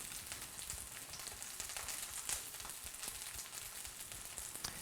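Beef sears in a hot metal pan, giving a steady crackling sizzle with scattered pops, close and continuous.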